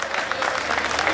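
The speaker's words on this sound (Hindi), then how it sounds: "सुनील शेट्टी साहब के लिए तालियां हो जाए." A short burst of audience applause for Suniel Shetty at the inauguration of a chowk in Malad West, steady and broad from start to finish, with some speech-like sound mixed in.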